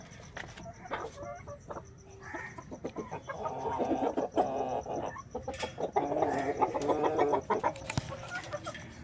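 Backyard native chickens in a home coop cluck and call repeatedly at close range, layered chatter rising and falling over a light outdoor background with no talking.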